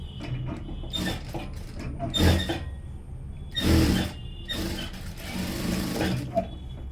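A sewing machine runs a few short, close bursts of clattering stitches along a princess cut blouse, stopping and starting with brief gaps between them.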